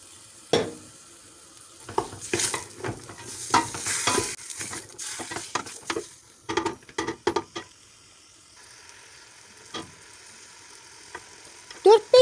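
Meat stirs and sizzles in a hot pan with a little vegetable oil, with scraping strokes and bursts of crackling frying that come and go, then a quieter stretch.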